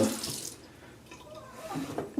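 Water runs briefly from a tap as a few drops are added to shaving lather, a soft splashing trickle that comes in short bursts.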